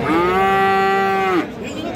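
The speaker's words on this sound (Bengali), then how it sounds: "হলিস্টিয়ান ফ্রিজিয়ান জাতের কিন্তু এইটা সার বাছুর একটা" A Holstein Friesian bull calf at the Raniganj cattle market gives one loud, close, drawn-out moo lasting over a second, followed by quieter market ambience.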